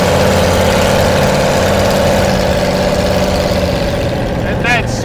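A 1933 Ford three-window coupe street rod runs with a deep, steady engine drone and throbbing low rumble, loud and close, holding at a constant pitch, with a brief high squeak near the end and someone speaking at points.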